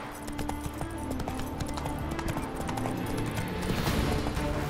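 The horse Roach gallops in The Witcher 3, hooves clip-clopping in a fast, steady rhythm close by, with ambient game music layered underneath.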